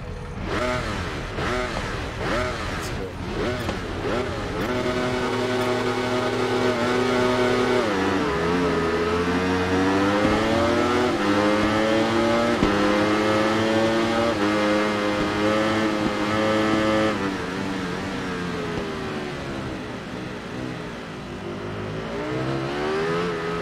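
Racing motorcycle engines in the Ride 3 video game whine and rev continuously, with pitch rising through gear changes and several bikes blending into a loud, sustained roar.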